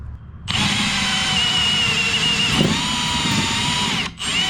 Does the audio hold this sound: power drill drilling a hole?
yes